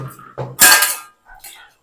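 An iron kadai handled in a kitchen, giving a few short metallic clanks and scrapes, one loud and close, with brief pauses between them.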